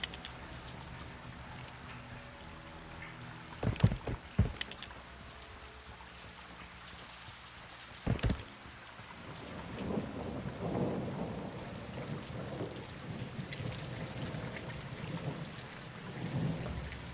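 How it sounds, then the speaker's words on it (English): Rain and thunder in the Call of Duty: Modern Warfare 2 campaign, with two loud thunder cracks early on, then a steady rain wash that swells and rumbles toward the end. "It's raining"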